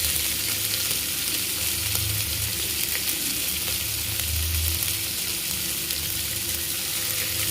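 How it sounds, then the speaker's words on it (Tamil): Onions sautéing in a pan for potato kurma make a loud, constant close-up sizzle and crackle that holds evenly throughout, with no voices. "வெங்காயம் நல்லா வணங்கட்டும்."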